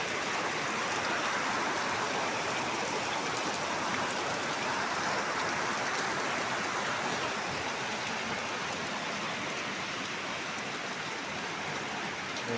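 A swollen river rushes beneath a bridge, a steady, dense roar of churning water filling the whole stretch at even loudness, with no voices over it.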